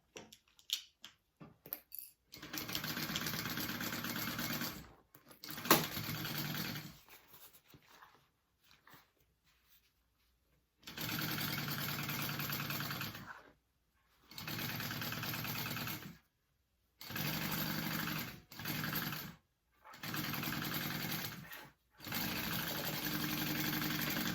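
A sewing machine topstitches a tote bag in several bursts, each a steady whirring run of a few seconds separated by silent pauses, with a few small clicks and handling noises at the start, close by.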